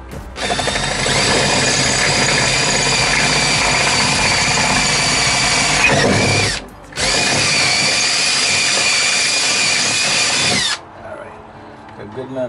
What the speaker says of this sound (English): Another drill, a little bit bigger.